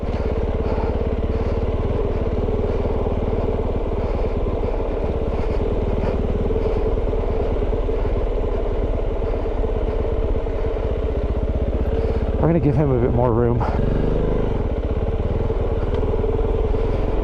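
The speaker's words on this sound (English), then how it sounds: "Using the engine brake, using the brakes, front and back." Steady mid-pitched drone of a Kove 450 Rally motorcycle engine braking down a rough jeep trail on Mt. Baldy, continuous and close, with rattling clatter and a rider speaking briefly near the end.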